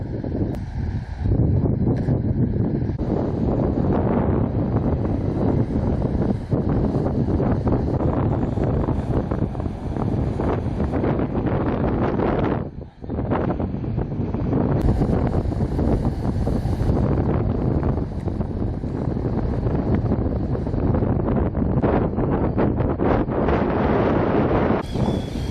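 Strong wind on Terceira Island in the Azores, roaring and buffeting hard against the microphone in a loud, unbroken rush, with one brief lull partway through.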